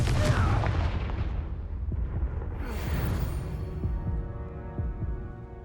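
The Confringo blasting curse in Hogwarts Legacy goes off with a loud, deep explosive burst that rumbles and fades, followed by a brighter magical whoosh and ringing shimmer as the blast dies away.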